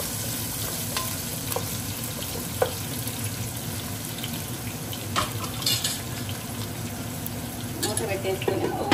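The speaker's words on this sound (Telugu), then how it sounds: "ఆయిల్ హీట్ అయింది. ఇలా చేసేసి ఆనియన్స్ వేయాలి." Onions frying in hot oil in a home kitchen, a steady crackling sizzle running throughout with occasional stirring clinks and faint background noise.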